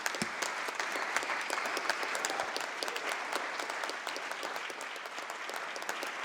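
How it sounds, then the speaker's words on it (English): Members in a state legislative chamber give sustained applause, dense even clapping from many hands that holds steady throughout without speech. "Members, one more round of applause, please, for Matt Jones."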